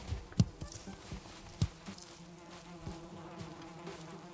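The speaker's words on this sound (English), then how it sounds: "The bees are happy." Bees buzz around a hive in the video game Valheim, a soft, continuous droning hum with a couple of sharp clicks and thuds from gameplay near the start.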